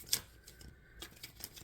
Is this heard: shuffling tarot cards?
yes